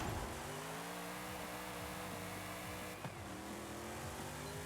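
A classic Australian four-speed, naturally aspirated muscle car in Forza Horizon 5 revs high and holds a steady, loud engine drone throughout, with a brief dip in the middle and no talk.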